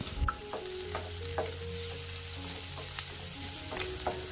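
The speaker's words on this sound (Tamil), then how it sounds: "வானலில் தேவையான அளவு எண்ணெய் ஊற்றிட்டு பட்டை, கிராம்பு, ஏலக்காய், நறுக்கின வெங்காயம், பச்சை மிளகாய் எல்லாத்தையும் ஒன்றா போட்டு வதக்கணும்" Onion, green chili, cinnamon, cloves and cardamom sizzle in hot oil in a home kitchen pan, a soft steady fry punctuated by light stirring clinks and scrapes.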